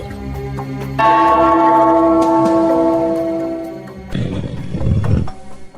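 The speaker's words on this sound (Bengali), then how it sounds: "ওই ঘন্টাটা বাজাও, বাজাও।" A tea bell is struck once and rings out loud and close with a sustained, slowly fading tone, followed by a burst of rattling, mechanical clatter.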